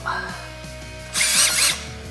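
A power drill bores into a worn BMW X5 M air suspension spring to deflate it, with a short whirring run, then a loud burst of rushing hiss for about half a second before settling back.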